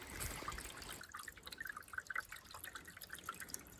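Water trickles and dribbles steadily through a gold prospecting setup propped with rocks, a faint, continuous outdoor flow with small splashy drips throughout.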